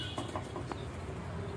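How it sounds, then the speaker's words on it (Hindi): A pair of pigeons, a male and female lalsira, are let go and flap off, with a few quick bursts of wingbeats close by over a soft outdoor background. "मैं दोनों कबूतर को छोड़ के दिखा रहा हूँ आपको"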